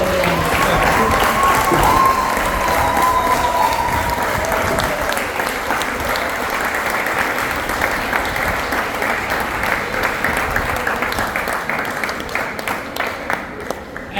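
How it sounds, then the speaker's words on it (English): Long round of applause from a Founder's Day lecture audience, dense clapping with some cheering that holds steady for about fourteen seconds, with a faint music tone early on and slowly easing toward the end. "Give another round of applause."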